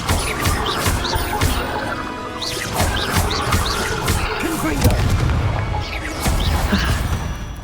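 Repeated fiery spell blasts and booming impacts from Hogwarts Legacy combat, a dense burst of crackling explosions layered with game sounds and a voice calling out.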